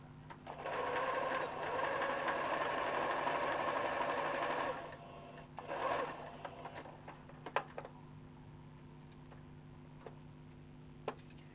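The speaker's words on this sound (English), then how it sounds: "you stitch up right up to where you end" An electric sewing machine stitches a seam on an upcycled sweater, running in a steady whir for several seconds, then pausing, a short second burst, and a few faint clicks and handling sounds afterward.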